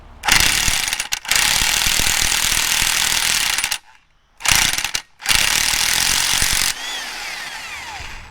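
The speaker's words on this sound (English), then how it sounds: "Gonna throw it on the biggest impact I have. And well, hopefully this takes it off." Impact wrench hammering in loud, close bursts on the front sprocket nut of a Honda CBR 600 motorcycle, with brief pauses between rattling blasts and a fading whine afterward.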